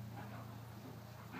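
Dogs making soft whimpering and whining sounds, close by and fairly steady, with a low continuous hum running underneath throughout.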